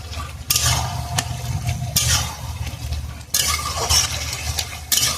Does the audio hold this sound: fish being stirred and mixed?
yes